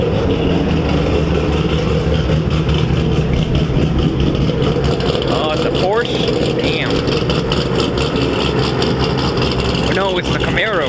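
A Chevrolet Camaro race car engine runs loud and steady at a NASA season-opener race meeting at MSR Houston, with a constant heavy rumble and brief whistling sweeps throughout.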